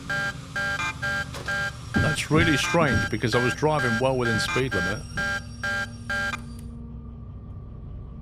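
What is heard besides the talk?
defect detector alarm in the train game Derail Valley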